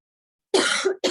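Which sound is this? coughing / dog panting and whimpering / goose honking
coughing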